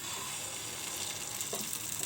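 Ground batter for a cough-remedy dish sizzling on a hot griddle spread lightly with oil, a steady bright hiss that stays even throughout, close and moderate in level, with one brief scrape or splash near the end and no talking.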